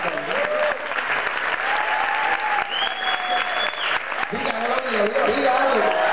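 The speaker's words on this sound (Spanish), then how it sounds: "Vamos, aplauda al Señor arriba de su cabeza." A church congregation applauds loudly and continuously, with crowd voices and raised speech mixed into the sustained clapping.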